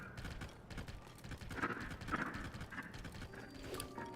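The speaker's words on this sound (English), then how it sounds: "Also, I love just riding about on a horse." A horse ridden across open terrain in Zelda: Tears of the Kingdom, its hooves giving a steady, rhythmic clip-clop over continuous game background sound, with no talking.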